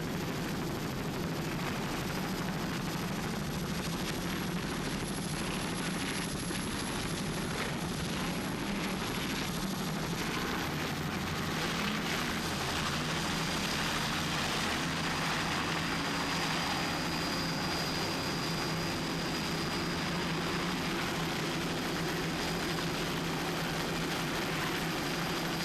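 A constant, loud roar of racing powerboat engines, including a 37-foot Outer Limits, on an Ocean City, Maryland race course, steady and dense with no pauses.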